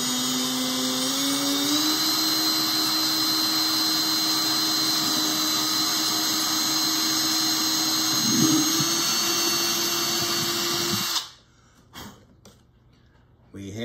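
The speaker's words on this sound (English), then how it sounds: "All right, so we got the drill bit in." A drill whines loudly and steadily at close range as it bores through the body of a Taylor Academy A12 acoustic guitar, its pitch shifting slightly, then stopping abruptly and leaving quiet clicks and handling noise.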